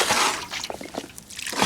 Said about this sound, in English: Then we just start adding the water with the sponge.